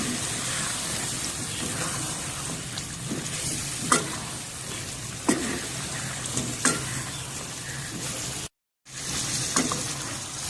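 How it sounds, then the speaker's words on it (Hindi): Potato pieces frying in a spicy masala in a pan, with a steady sizzle and repeated scraping stirs and clinks of the spoon, close up. "अब इस मसाले में आलू को 10 मिनट भूनना है हमने।"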